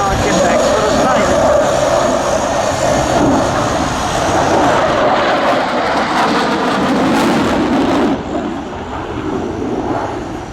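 An aircraft flying a display maneuver at an air show roars loud and continuous, the engine tone shifting as it passes, with a commentator's voice over the public address.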